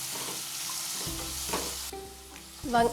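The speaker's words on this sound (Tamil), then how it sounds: "வெங்காயம் வந்து கொஞ்சம் ஒரு 1/4 அளவுக்கு வதங்கியிருக்கு." Finely sliced medium onions with cashews and almonds sizzle in hot oil as ghee rice cooks, with a steady frying hiss, scraping stirs and a clatter of the spoon near the end.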